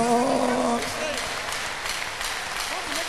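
Congregation at a healing crusade giving a big clap offering to Jesus, a broad sustained patter of many hands beneath a speaking voice, fairly loud and continuous.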